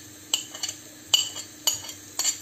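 Onions and salt stirred in a pan while cooking bottle gourd with prawns: four distinct scraping strokes of a utensil against the pan, close and crisp over a quiet background with faint sizzle.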